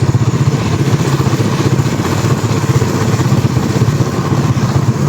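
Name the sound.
motorcycle engine while riding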